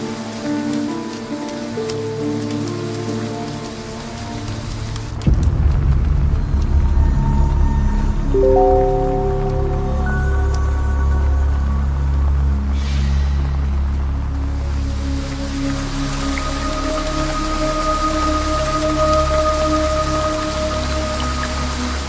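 Heavy rain pours down and patters on the ground, which is flooded with puddles. The loud, dense rain runs continuously, and sustained musical tones sit on top of it.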